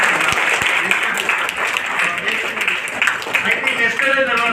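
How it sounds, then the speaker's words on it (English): An audience at an institution's budget presentation gives sustained applause. The clapping is dense and even, with voices mixed in. "Big round of applause you should give the institution"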